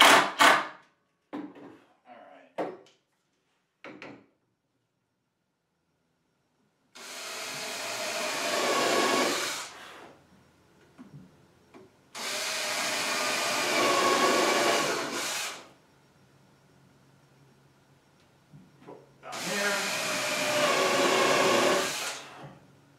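A power drill drives screws into a Rockler Murphy bed kit, running in three sustained bursts of a few seconds each with short pauses between, preceded by a few faint knocks and handling sounds.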